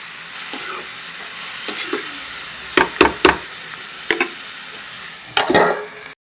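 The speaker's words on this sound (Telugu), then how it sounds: "చూడండి, బాగా మగ్గాలి, లేదంటే ఉల్లిపాయ అనేది వాసన వస్తుంది," Sliced onions frying with green chillies and curry leaves in a pan, a steady sizzle broken by several loud spoon scrapes and knocks against the pan, close and clear without any talk.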